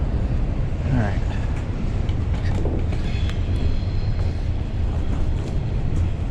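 A long freight train rumbles past nearby, a steady broadband roar of rolling wagons lasting throughout, heard from an old bridge trail in LaGrange, Georgia, with faint squeals over the din.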